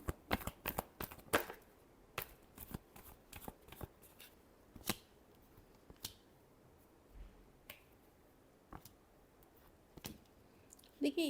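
Tarot cards being shuffled by hand, a quiet, close run of sharp riffling snaps and flicks in uneven bursts, with a few softer taps between them.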